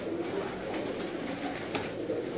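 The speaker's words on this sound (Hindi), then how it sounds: "कबूतर वो भी अच्छे हैं" Pigeons coo continuously at a loft in Gujranwala, a dense, soft murmur of many birds close by, steady throughout with no talk.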